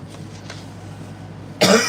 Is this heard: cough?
yes